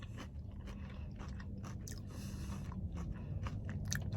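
A crunchy, beer-battered fried onion ring is chewed up close, with soft repeated crunching and biting sounds and no talking.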